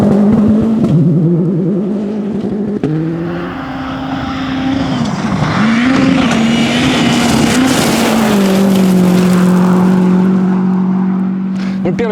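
A Suzuki Swift R4 rally car drives on gravel, its loud engine rising and falling through gear changes over a steady roar of tyres and road noise.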